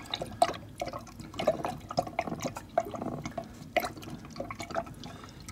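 A spatula stirs salt water brine, making soft, close watery swishes and light clinks against the container in an uneven rhythm.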